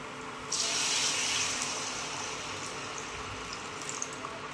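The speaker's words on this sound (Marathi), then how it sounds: "आपण आता त्यात गरम पाणी टाकून घेऊया" Hot water is poured into a pan of cashew masala curry, giving a short, bright splashing gush, then a quieter bubbling simmer, with no talking.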